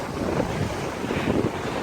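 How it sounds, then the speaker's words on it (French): Strong gust of wind buffeting the microphone outdoors while climbing from rock to rock, a steady loud rumble that swells and eases over a couple of seconds with no voices. "Là, il y a un gros coup de vent."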